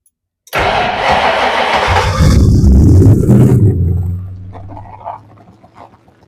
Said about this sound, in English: now we know that the car is running again